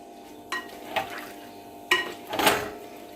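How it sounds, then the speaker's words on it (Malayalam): Salted lemons with their juice being stirred in a pan for lemon pickle, with four separate scraping, clattering strokes of a spoon against the pan over a low sizzle, no voices. "നന്നായിട്ട് ഇളക്കി കൊടുക്കുക."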